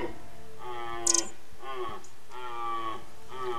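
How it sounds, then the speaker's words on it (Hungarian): A searching bull deer calls from the next valley with four drawn-out, moaning bellows spaced about a second apart. They sound fairly faint and distant, with a brief rustle between the first two. "A következő völgyből egy kereső bika hangja halszik."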